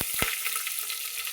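Oil sizzles steadily in a pan with chillies frying, a bright hissing crackle that stays even throughout, with a couple of soft knocks at the start.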